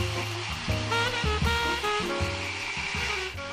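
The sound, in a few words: hair dryer used to dry paint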